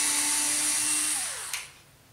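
A RYOBI TEK4 cordless screwdriver, clutch set to 10, drives a screw into a 2x4 without a pre-drilled hole: a steady close motor whine that slows and drops in pitch as the screw seats, then stops.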